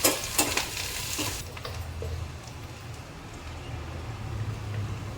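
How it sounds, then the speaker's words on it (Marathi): Onion, chili and garlic frying in a pan for a Marathi home-cooked leafy vegetable dish: a loud scraping stir at the start, then a steady, close sizzle that continues without talk. "लसूण घालणार आहे आणि जरा चांगलं भाजून घ्यायचं"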